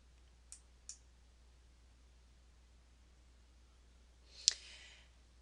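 A computer mouse gives a few faint isolated clicks, two close together early and a sharper one later, over a quiet hiss with no talking.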